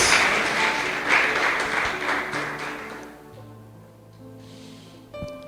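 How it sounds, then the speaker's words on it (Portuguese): A church congregation applauds loudly during a Sunday worship service. The dense clapping fades out after about three seconds into soft sustained music tones. "Dê um aplauso a Jesus"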